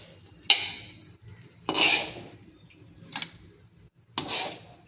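Bitter gourd curry (kakarakaya pulusu) being served from a metal pot: four separate clanks and scrapes of a ladle against the pot, each with a short metallic ring, in an otherwise quiet kitchen.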